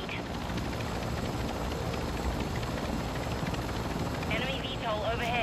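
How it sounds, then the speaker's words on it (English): An enemy VTOL aircraft in the video game Call of Duty: Modern Warfare 2 gives a continuous rotor-like engine drone overhead, steady and moderately loud, mixed with game sound effects and a voice. "Enemy VTOL overhead."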